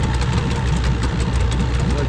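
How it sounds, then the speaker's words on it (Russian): An old Soviet Vikhr outboard motor, started after five years standing idle, runs at a steady idle with a loud continuous drone and faint knocking. There is no break in it, and no talk is heard. "Вот так вот работают у нас русские моторы, которые стояли 5 лет."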